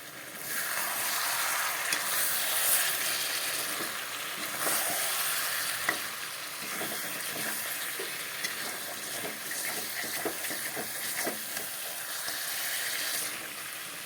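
Chicken and potatoes sizzle hard in a pan, a dense, continuous frying hiss with light scraping from stirring, loud and close, with no talking over it.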